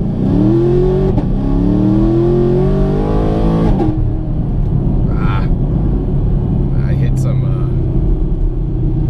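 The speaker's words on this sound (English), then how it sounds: "see what the 0 to 60s can be for this car" A Camaro SS on Toyo Proxes R888 tires launches hard from 0 to 60, its engine revving loudly up through rising pitch sweeps before a shift, then settling into a steady roar; a voice is briefly heard.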